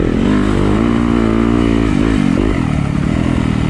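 A Yamaha YZ250FX dirt bike engine revs hard and loud up close, a raspy, buzzing roar that climbs and dips in pitch with a few quick throttle blips.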